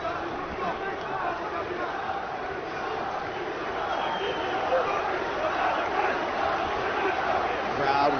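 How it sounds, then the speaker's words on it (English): Arena crowd at a UFC 242 fight roaring in support of a fighter during the final minute, a steady broad rumble of cheering and shouting that swells slightly in the second half. "Crowd once again vocal in its support of Islam Makhachev."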